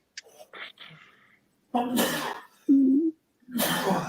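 A sharp sneeze bursts out amid scattered vocal noises and breaths, with a brief voiced sound between bursts, close and fairly loud.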